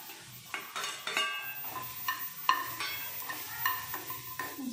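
Onion frying in a pan for a paneer and tomato dish, with a soft sizzle under repeated scraping and clinking of a utensil against the pan, close and without voices.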